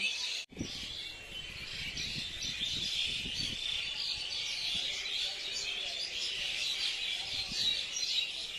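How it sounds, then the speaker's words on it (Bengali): A bamboo tree full of birds at dusk, their dense high chirping forming a continuous, fairly faint chorus, with a brief thump near the start and faint low background noise. "বাঁশ গাছটা পুরো পাখিতে ভর্তি হয়ে আছে সন্ধে যেমনি হয়ে আসছে সঙ্গে সঙ্গে মিচির কিচির মিচির শব্দ"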